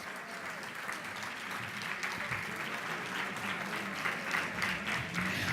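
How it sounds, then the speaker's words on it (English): Steady applause from a town hall audience fills the room, dense and sustained throughout without pause, with a faint murmur of voices mixed in. "Let us give Angela Rye, Terry Sewell, and Senator Doug Jones a rousing applause"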